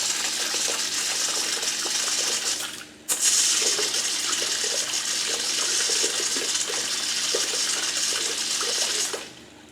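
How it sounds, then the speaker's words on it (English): Water sprays steadily from a cheap hose nozzle fed by an onboard camping pump, a continuous hissing gush that cuts out briefly near the three-second mark and then resumes. "so that's the water hose"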